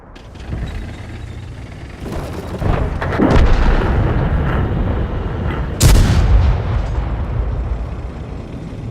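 Tank cannon shots in an online tank battle game, several heavy booming blasts with mechanical reload clanks between them, the loudest shot near the end, with no talking.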